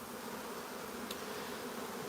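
Honeybees buzzing at Dadant hives with open ventilated floors, a dense steady hum of many bees close by, continuous and unbroken, with no voices.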